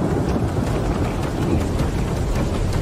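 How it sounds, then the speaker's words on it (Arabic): Heavy rain and rolling thunder in an Egyptian horror film set at a haunted palace, a dense, loud, continuous downpour with a deep, rumbling low roar throughout. "خايفين عشان المطر يعني"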